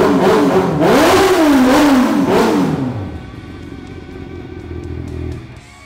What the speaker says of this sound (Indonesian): gerakan di tangan sama suara knalpot kalau 600 cc itu